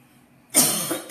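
A single harsh, close cough from a woman choking on a peanut bursts out after a moment of quiet, followed by a second shorter cough.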